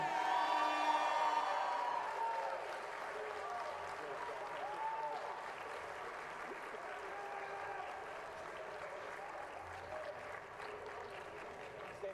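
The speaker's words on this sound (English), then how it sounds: "I know you're going to give him a warm round of applause, from Belgium, Brian Ramon." Warm crowd applause with scattered cheers and whoops for the runner-up receiving his trophy at a darts world masters final, steady and fairly faint from start to finish, with speech-like tones over it.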